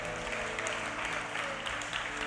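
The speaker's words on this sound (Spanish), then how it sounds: "Dale un aplauso al Señor." Church congregation applauding during a Spanish-language service, a dense wash of clapping heard over a steady low hum in the hall.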